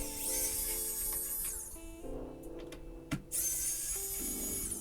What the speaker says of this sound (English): here I have a old laptop that's died, and yeah, we can give it a go and see if it undoes screws